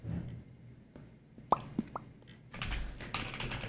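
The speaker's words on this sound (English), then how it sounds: "Wait, I don't know why I'm typing all caps." Someone types on a computer keyboard nearby, with soft scattered key taps and a few sharper clicks, then a denser burst of quick typing toward the end.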